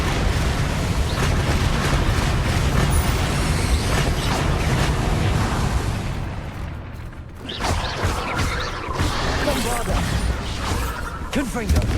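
Confringo blasting-spell explosions in a Harry Potter video game roar as a thick, continuous rumble with crashing bursts, briefly thinning midway before surging back, and game voices mix into the din.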